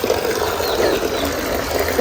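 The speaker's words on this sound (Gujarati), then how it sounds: "ઓ ભાઈ અહીંયા જો આ પાણી ઢોળે" Water spills and gushes from a water tanker in a village, a loud, continuous rushing splash heard close and alone.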